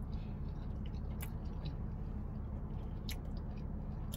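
Soft, close chewing of a spicy chicken burger with bacon and green chilies; the bacon is not crunchy. Mouth sounds run steadily for several seconds with a few sharper clicks and no talking.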